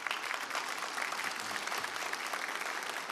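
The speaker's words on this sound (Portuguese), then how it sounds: "Palmas para as pessoas casadas." Church congregation at a Rede Século 21 service applauding married couples, a sustained, fairly distant patter of many hands clapping with no talk over it.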